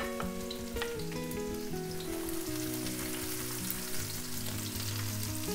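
Cumin and garlic sizzling in hot oil for a yellow dal tadka, a steady, dense frying hiss with a few crackling pops, close and continuous throughout, with no talking.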